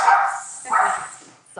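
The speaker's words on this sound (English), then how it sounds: "Excuse my puppy." A puppy gives two short, high yapping barks close to the microphone, the second following quickly after the first, with a voice starting right at the end.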